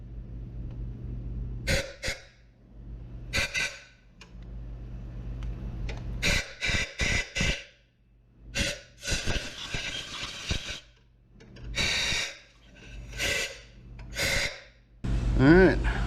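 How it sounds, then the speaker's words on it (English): Short bursts of compressed air blowing out the spark plug wells of a 2010 Ford Escape 3.0 XLT, several sharp hissing blasts of varying length close by over a low steady hum. "I'm going to go ahead and blow out these wells"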